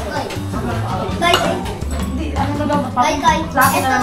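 Chicken arroz caldo made with oatmeal is served onto plates, with repeated clinks and scrapes of spoons and dishes close by, irregular and bright, while people talk throughout.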